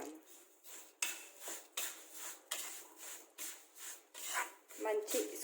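Ragi grains being stirred as they roast in ghee in a pan, rhythmic scraping and rubbing of a spoon against the metal pan in repeated strokes, close and moderately soft.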